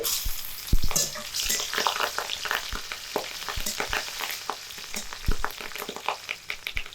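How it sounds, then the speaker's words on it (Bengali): Four slit green chillies dropped into hot oil with already-fried garlic, crackling in a dense close sizzle with scattered sharp pops and occasional stirring scrapes throughout. "রসুন ভাজা হয়ে গেছে এবার এর মধ্যে চিড়ে রাখা চারটে কাঁচা লঙ্কা দিয়ে দিচ্ছি"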